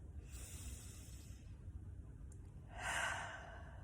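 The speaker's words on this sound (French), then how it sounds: "prendre une bonne respiration pour bien gonfler les poumons par le nez et par la suite expirer par la bouche." A quiet, close breath is drawn slowly in through the nose, then after a pause let out in a louder, airy exhale through the mouth.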